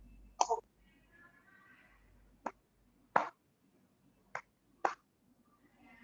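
A student claps hands in a rhythm in a classroom: five sharp, close claps spaced unevenly, with a pair near the end, and faint murmuring from the room in the gaps.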